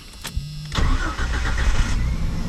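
A 1995 Jeep Cherokee XJ engine cranks briefly and catches, then settles into a steady, close, loud idle with a slight uneven stumble, no voices.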